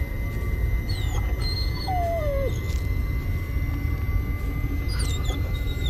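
A dying dog in the Blair Witch video game whimpers and whines in thin, high wavering cries, including one long sliding whine, over a steady low ambient rumble.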